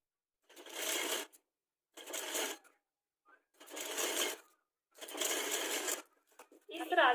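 A sewing machine stitching a girls' top whirs in four or five short bursts of about a second each, with silent pauses between them, close and clear, a voice briefly heard at the very end.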